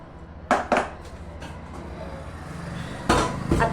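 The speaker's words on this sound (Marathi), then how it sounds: "तर वरण भाताचा आता कुकर लावतीये बरं का" Metal pots and a pressure cooker clatter in a home kitchen while dal and rice are set to cook. A few sharp knocks come early, then a louder clank near the end, over a low hum.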